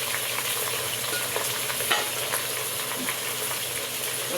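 A one-kilogram batch of potatoes fries in a pan with a dense, steady sizzle, close and constant, broken by a few faint clicks and one soft knock of stirring.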